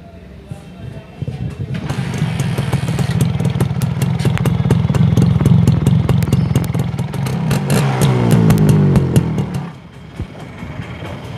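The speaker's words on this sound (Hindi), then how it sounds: "टिपिकल टू स्ट्रोक बाइक वाला साउंड है बाइक का" A two-stroke motorcycle engine idles with a rapid, rattly putter, revving up loudly twice before dropping back; close and dominant throughout.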